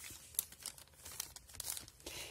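Close, crisp crinkling and tearing of paper, irregular rustles and crackles with brief louder bursts, no voices.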